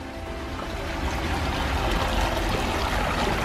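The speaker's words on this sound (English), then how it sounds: "Nice waterfall. Long stream." A backyard koi pond's waterfall and long stream rush steadily nearby, a broad continuous splashing flow with no speech over it.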